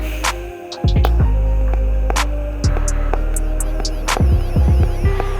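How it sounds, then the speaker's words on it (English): TIG welding with a gas lens on a custom exhaust for a small kei car gives a loud, steady electrical hum and buzz, broken by brief stops, restarts and a few sharp clicks. "just gonna keep welding."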